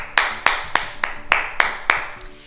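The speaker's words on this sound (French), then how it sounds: "Et on s'applaudit." A group claps together in a martial movement class, about eight distinct, evenly spaced claps in quick unison, sharp and fairly close.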